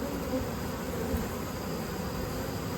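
Honey bees swarm around an open hive in a dense, steady buzz, loud and close and continuous throughout with no talking.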